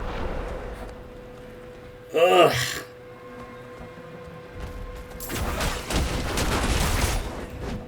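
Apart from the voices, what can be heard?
explosions and fire damage in video game Diablo 4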